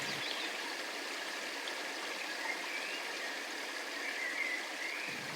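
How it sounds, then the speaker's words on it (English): Clear stream water rushing over jagged rocks and around boulders, a steady, soft, even hiss of flowing water with no breaks, heard alone. "you watch as clear water rushes over jagged rocks, and in other parts it curves around softened boulders, tracing its path in white water"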